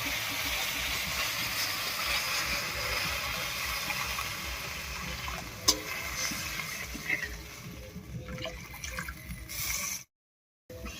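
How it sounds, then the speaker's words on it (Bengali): Water splashes into a pan of fried, well-cooked spice paste for a vegetarian ridge gourd curry, giving a steady sizzling hiss and watery rush that gradually thins, with a brief dropout near the end and no talk. "এবার এর মধ্যে জল দেবো।"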